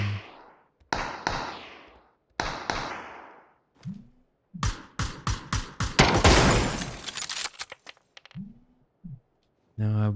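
PUBG gunfire arrives as loud bursts of single shots and rapid volleys, with clattering impacts and a long dense stretch of fire in the middle. Booming reports and brief gaps come between the bursts.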